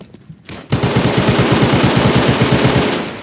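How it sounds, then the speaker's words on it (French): Rapid machine gun bursts in a video game, a loud continuous stream of closely spaced shots starting abruptly after a brief quieter moment and holding steady to the end. "Très bien, je tire sur un cadavre."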